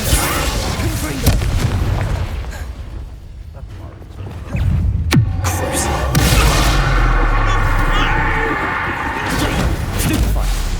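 Confringo, an explosive spell cast in the Hogwarts Legacy video game, bursts with a loud booming blast and crashing impacts, with dense effects and a sharp burst midway, all close and full.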